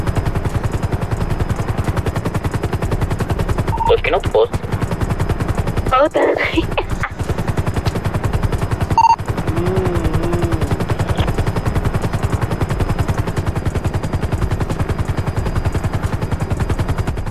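Helicopter rotor drone in an Área 51 RP video game session, a steady loud throbbing wash running the whole time, overlaid by brief bursts of gunfire and a couple of short spoken lines.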